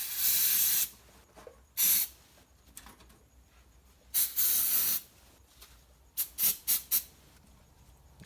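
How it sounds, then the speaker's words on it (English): Aerosol brake cleaner sprays onto a stainless brake line fitting on a Toyota MR2 SW20, with two long hissing bursts, a third, then a quick series of short puffs, close and loud. "And some brake cleaner to clean off the excess."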